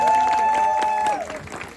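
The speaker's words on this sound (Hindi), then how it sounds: "बल्कि ज्यादा सी तालियां बजाएं" An audience at a qawwali night in Kettli Cafe, Islamabad, applauds after a performance, claps running under a loud sustained vocal cheer that holds, then drops away as the clapping thins.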